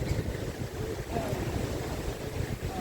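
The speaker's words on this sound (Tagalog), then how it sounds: "Ang lakas ng alon o." Strong sea waves at Mauban, Quezon wash and rumble steadily in a low, continuous roar mixed with wind buffeting the microphone, heard from a boat or shore at close range without clear speech.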